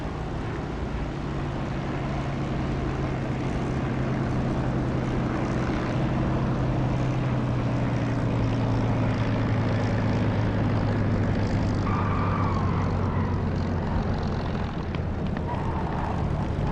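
Fixed-wing aircraft in the DCS flight simulator game, its propeller engine droning steadily and loudly throughout, a continuous tonal hum that rises slightly in pitch while picking up speed in a descent.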